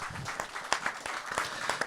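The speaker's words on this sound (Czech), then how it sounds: "to si zaslouží potlesk." Applause from a crowd, a dense patter of clapping hands that holds steady for a couple of seconds.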